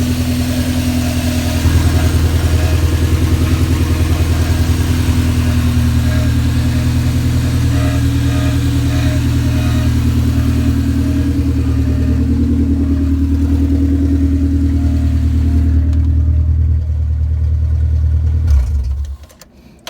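A K24-swapped Honda Civic EG engine runs steadily for almost twenty seconds, a loud, close, even exhaust rumble with a constant hum, then abruptly cuts off near the end; no talking over it.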